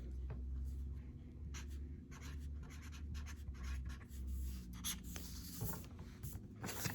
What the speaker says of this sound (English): So now let's write leaves.